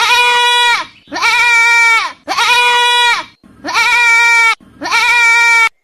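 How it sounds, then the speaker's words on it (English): Goat bleating loudly and close, five long wavering cries in a row separated by brief pauses, with no other sounds between them. "G for goat."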